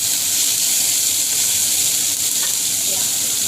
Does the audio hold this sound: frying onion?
yes